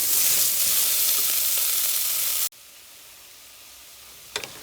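Carrot and sweet potato sizzle steadily in a hot pan for a couple of seconds, a loud, close, hissing fry that cuts off abruptly to quiet, followed by a brief clink.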